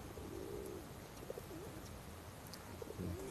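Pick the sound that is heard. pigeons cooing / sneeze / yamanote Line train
pigeons cooing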